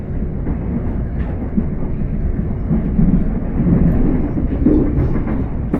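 A Gatwick Express electric train rumbles steadily close by, a continuous low roar with faint rhythmic clatter, loud and unbroken with no voices.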